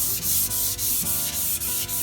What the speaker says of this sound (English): We're using our stearated, lubricated finishing paper